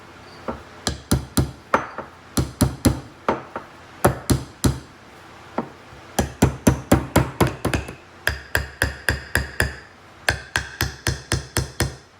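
Nails soaked before use are hammered through a small wooden piece of furniture being restored, a rapid run of sharp, close, loud blows in bursts of three to eight strikes with short pauses between, no talking.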